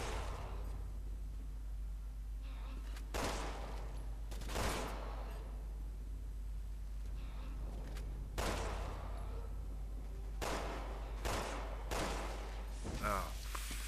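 Gunfire in Resident Evil 6, a handful of sharp shots spaced irregularly over a constant low hum, with someone talking between the bursts.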